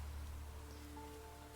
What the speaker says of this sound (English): The rain came as Al went on to the spirit world